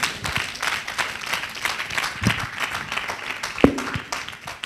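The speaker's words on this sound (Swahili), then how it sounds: "Pigia Yesu makofi mpaka hapo." A church congregation claps for Jesus during a Swahili sermon on prayer, scattered rolling applause at moderate level with a few louder, sharper claps rising above the steady patter.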